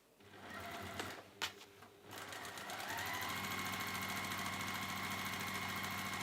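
A sewing machine stitches fabric for a kitchen project. A few handling knocks come first, then the motor settles into a steady, close, continuous run that carries on to the end.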